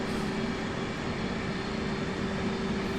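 An F/A-18 jet engine spooling up in DCS World: a steady, loud turbine roar with a constant whining tone, continuous and even throughout, with no voices over it.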